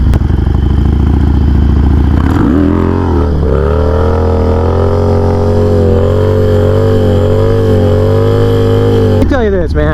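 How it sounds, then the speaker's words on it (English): A Harley-Davidson Sportster motorcycle engine roars loud and close during a wheelie, a heavy rumbling drone whose pitch rises and wavers as the throttle is worked, then drops off sharply near the end. "Doing a wheelie on a Harley Davidson is not the same as jumping on a bicycle."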